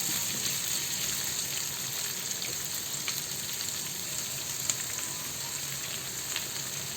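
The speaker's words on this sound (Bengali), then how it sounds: "এখন আমি এই সব কিছু একসাথে একটু ভেজে দিয়ে দেব মাংসটা" Marinated mutton for chaap fried in a pan with its spices, giving a steady, loud sizzle with a faint watery hiss that runs unbroken throughout, with no voices.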